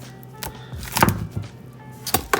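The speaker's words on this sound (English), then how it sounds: "once I break the soap itself, I just kind of move the knife down the soap" A knife cuts down through a bar of African black soap, giving a few scraping, crunching chops with one sharper burst midway and another at the end, close and fairly clear.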